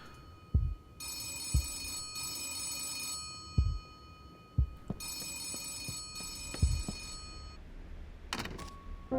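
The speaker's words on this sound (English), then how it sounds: "No, that's your telephone." An old telephone bell rings in the video game Gerda: A Flame in Winter, with two long metallic ringing bursts and a third shorter one in a quiet room, soft thumps and clicks between them and no talking.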